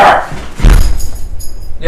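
A single dog barks close and loud once, with a thumping low burst, alongside a brief spoken voice.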